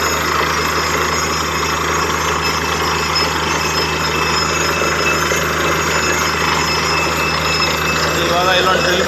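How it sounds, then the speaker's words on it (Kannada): A borewell drilling rig drills for water. It makes a loud, steady mechanical roar with a grinding, hammering texture that runs unbroken for the whole stretch. "ಇವಾಗ ಇಲ್ಲೊಂದು ಡ್ರಿಲ್ ಮಾಡ್ತಿದೆ"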